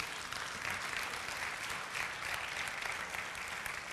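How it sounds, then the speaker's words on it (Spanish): A congregation claps for Jesus during a church service, a sustained, even patter of many hands at moderate distance with no talk over it. "Dale un aplauso a Jesús."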